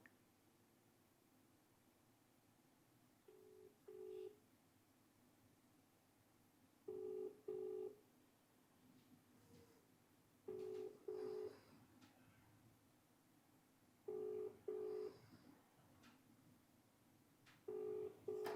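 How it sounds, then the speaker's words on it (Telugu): Outgoing phone call ringing unanswered: faint dialing tones, then five evenly spaced double-pulse ringback tones about every three and a half seconds over a soft hiss, no voice picking up. "ఒక్కసారి కేబీఆర్ గారికి కాల్ చేద్దాం."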